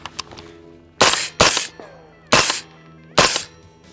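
A 300 Blackout PDW rifle fires four loud, sharp shots outdoors, arriving in two quick pairs with a brief ringing decay after each.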